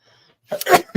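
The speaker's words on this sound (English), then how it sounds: "I'm going to sneeze" A sudden sneeze bursts out after a stretch of near silence, loud and close, with a short breathy tail.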